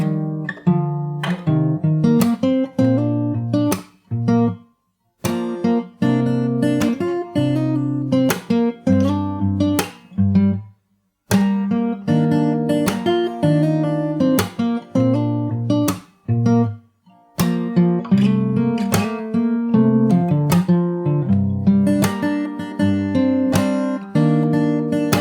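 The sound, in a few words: fingerstyle acoustic guitar playing a chorus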